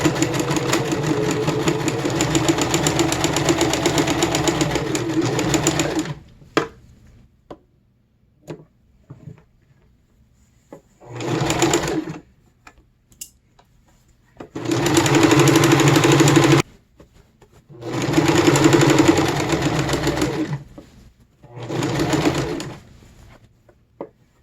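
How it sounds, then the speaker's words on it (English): Sewing machine stitching the seams of elastic-waist medieval pants, running in a long steady burst, then stopping for small clicks and fabric handling before several shorter whirring runs resume. "Now time for more sewing."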